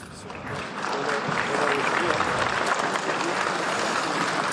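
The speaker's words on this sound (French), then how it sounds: "ici saluée par les applaudissements" Crowd applause greets Pope Francis as he enters an interreligious congress in Kazakhstan, a steady dense wash of clapping that swells and holds throughout, with voices mixed in.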